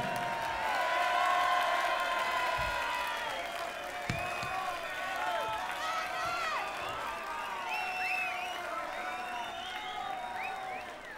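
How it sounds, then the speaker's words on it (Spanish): Audience at a live rock concert in 2002 cheering and clapping in a steady, dense crowd roar with whoops and scattered shouts, loud and sustained throughout. "Quiero que deis un aplauso muy grande a nuestros 4 pipas"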